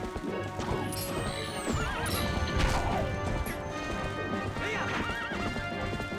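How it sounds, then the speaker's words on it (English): A horse in the video game Twilight Princess neighs repeatedly while bucking amid clattering hooves and crashing thuds, the whinnies rising and falling over a busy, continuous scuffle. "Why is the horse still bucking and running away?"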